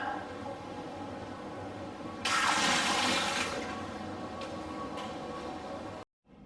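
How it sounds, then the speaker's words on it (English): A cold bucket shower aboard the Viking Sky cruise ship tips water down in a sudden loud rush that gradually tapers over a few seconds, then stops abruptly, with steady ship background noise underneath. "they have the cold bucket shower"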